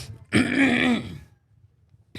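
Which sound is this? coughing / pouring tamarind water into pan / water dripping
coughing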